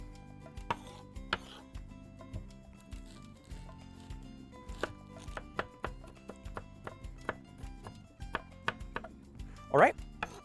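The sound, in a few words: chopping onion with a knife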